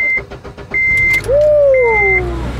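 A Honda Civic with a recently broken clutch pedal bracket is moved out of the way. A low engine rumble runs throughout, with a rising and falling engine note. Three sets of steady electronic beeps play alongside it.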